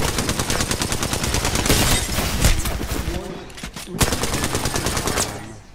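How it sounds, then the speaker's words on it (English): Heavy, continuous gunfire in Apex Legends, rapid overlapping shots from several weapons with brief gaps and sharp impacts, loud and close throughout, with voices partly mixed in. "She shot me through the floor."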